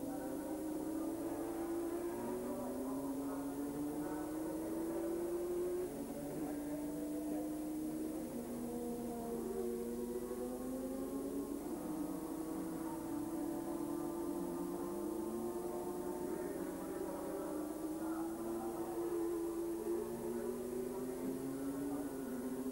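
An Alfa Romeo–engined RS2 sports racing car laps Monza, its engine note rising and falling through gear changes in a continuous, moderately distant drone with no talk.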